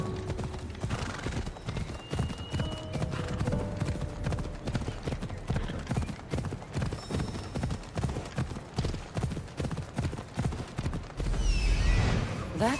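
Horse hooves clip-clop in a steady trotting rhythm through Assassin's Creed Odyssey game audio, close and continuous, with a neigh near the end and faint voices underneath.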